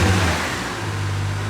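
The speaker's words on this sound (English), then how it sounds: "But now it's revving high and fast." A Toyota JZX90's engine revs high and fast, a steady loud mechanical drone with a strong low rumble that holds through the whole moment without talk.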